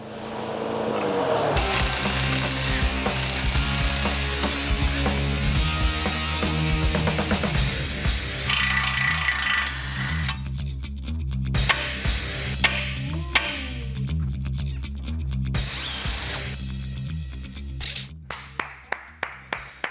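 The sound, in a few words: power tool tightening parts on a 2011 Ford truck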